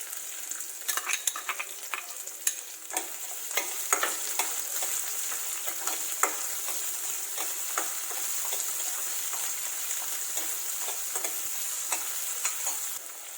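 Chopped onion frying with cumin seeds in hot oil, a bright, constant crackling sizzle close up, with frequent quick spatula scrapes and stirring clicks throughout, no voices.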